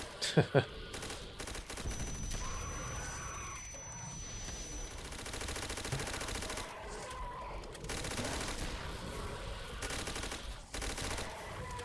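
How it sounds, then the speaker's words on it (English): Rapid automatic fire from a Type 100 submachine gun in the zombies mode of Call of Duty: World at War, continuous dense bursts with game sound effects and some talk over it. "the Type 100, when you got that double tap, that thing shoots faster than just about anything else I've ever seen"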